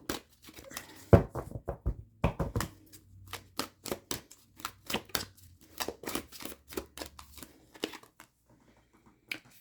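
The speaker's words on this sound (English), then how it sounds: "I shuffle the cards off camera, I like to shuffle them on camera in front of you all" Tarot cards are shuffled by hand in a quiet room, producing a long series of crisp, irregular riffling snaps and flutters, close and dry, with short pauses between bursts.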